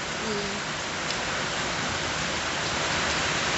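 Heavy rain pours down during a storm, a dense, steady hiss of drops drumming on surfaces, constant and fairly loud with no talk.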